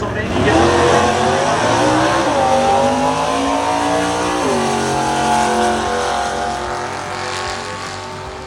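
A 1967 Camaro from Pennsylvania makes a drag racing pass at the NHRA ZMAX Nationals, its engine roaring loud and close as it climbs steadily through the gears with a sharp shift near midway, while crowd or announcer noise sits underneath.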